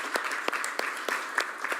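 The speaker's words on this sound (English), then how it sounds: "I think they deserve a round of applause" Audience applause at a cities summit session, a moderate spatter of claps with sharper individual hits standing out, fairly steady and mid-distance, no voices over it.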